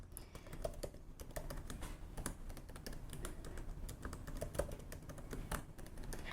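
Keys on a computer keyboard are typed in a quick, steady, close-up stream of clicks while a password is entered, running throughout with no talk.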